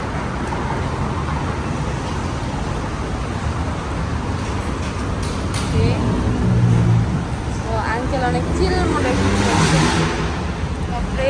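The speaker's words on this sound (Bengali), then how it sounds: "বাপ এখানে মানুষজন এত সাউন্ড করে গাড়ি বলার বাহিরে" Dense, loud road traffic near Bangkok airport rumbles continuously, with engines passing close and building louder midway, while people talk over the roar.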